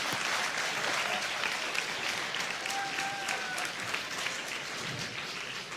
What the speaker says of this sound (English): I like how they applaud it